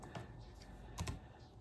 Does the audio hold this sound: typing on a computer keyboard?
yes